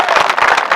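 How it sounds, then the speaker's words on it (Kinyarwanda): Applause for the Igihe ni iki choir at a Seventh-day Adventist choral event, a short burst of steady crowd clapping. "amashyi menshi kubw'iryo zina"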